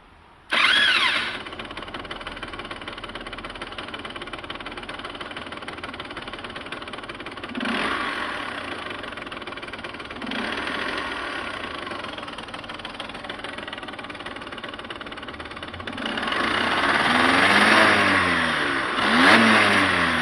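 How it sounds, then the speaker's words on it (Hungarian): A warm 2003 Derbi GPR motorcycle engine fires up with a sharp burst, then idles steadily and takes a few blips of throttle before a longer, rising rev near the end, all close and without talk. "Nézzük meleg motorral, hogy indul."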